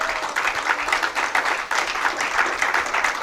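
A church congregation claps steadily during a service, a full, rhythmic mass of applause filling the space without a break.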